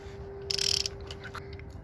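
A ratchet turning a 5/8 inch deep well socket to remove a spark plug from a 2007 Toyota Camry: a short burst of rapid metallic clicks close up, over a quiet steady hum.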